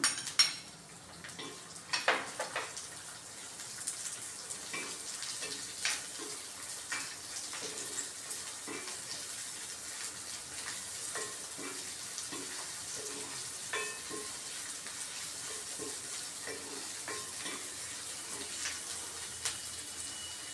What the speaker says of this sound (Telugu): జీలకర్ర వేగింది ఉల్లిపాయలు వేస్తున్నాను